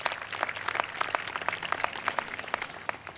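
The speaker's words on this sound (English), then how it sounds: "Let's give that group a round of applause." A crowd claps steadily, a dense patter of many hands at moderate distance, with no voices over it.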